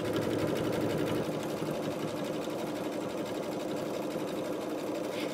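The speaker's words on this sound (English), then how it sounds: "This is a lot of stitching in a row." A sewing machine runs a long continuous seam on a fabric bread proofing bowl, a steady, fast mechanical whirring hum with rapid needle ticks, close and loud, uninterrupted from start to finish.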